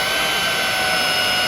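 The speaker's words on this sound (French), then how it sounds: "Ça fait du bruit, c'est un aspirateur" A Xiaomi Dreame cordless vacuum cleaner runs on its first power setting with the trigger held, giving a steady, loud whine and broadband rush that stays even throughout with no talking.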